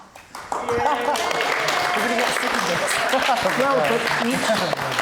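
An audience at the Fruitmarket applauds Ian Morrison, steady dense clapping from a crowd sustained throughout, with voices talking and calling out over it.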